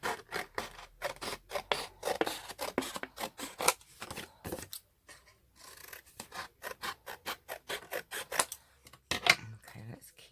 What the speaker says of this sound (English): Let me just cut this down so we've got a straight piece.